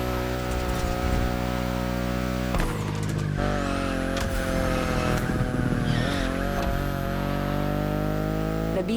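BMW i8 driving in The Crew Motorfest, a steady loud engine drone with tire noise running throughout, a brief shift or break in tone partway through, no talking.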